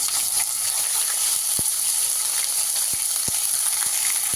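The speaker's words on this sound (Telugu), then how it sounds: "దానిలోనే ఒక 1 స్పూన్ జింజర్ గార్లిక్ పేస్ట్, అది కూడా ఫ్రై చేసుకోవాలి." Ginger garlic paste fries in a pan with whole garam masala for an egg curry, giving a loud, continuous close sizzle with a few sharp crackles and pops.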